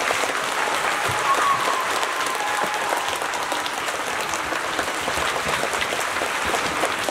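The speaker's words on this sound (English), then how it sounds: "let's also give them a round of applause" An elementary school audience at a Veterans Day assembly claps steadily, a dense, even round of applause filling the room with no break from start to finish.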